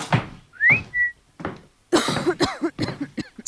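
A woman gives a short, bright whistle that slides upward and then holds a brief note, followed by a few soft, throaty coughs and breathy sounds in a quiet room.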